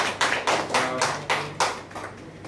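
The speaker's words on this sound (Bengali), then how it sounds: "জোরে হাততালি" Loud applause for an honoured senior guest at a trophy presentation, heard as a run of about six strong bursts of clapping in quick succession that fade slightly toward the end.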